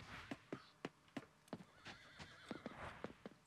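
A horse in the video game Coral Island whinnies in a wavering call amid sharp, evenly spaced hoof clops, fairly close and clear.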